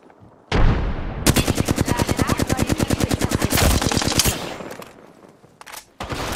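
Rapid automatic gunfire in a shooter video game, a loud sustained burst of evenly spaced shots lasting a few seconds, followed by quieter game sounds.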